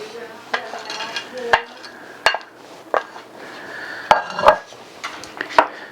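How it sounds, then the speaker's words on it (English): A spoon stirs a pot of truck stop chili with beans and bacon, sharp metallic knocks against the pot rim over thick, wet scraping and faint sizzle, close and irregular. "Give it a stir."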